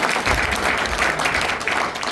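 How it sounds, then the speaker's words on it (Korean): An audience at a lawmaker's constituency report meeting in a city sports hall claps steadily, a dense, fairly even wash of applause with faint voices mixed in. "큰 박수 부탁드립니다"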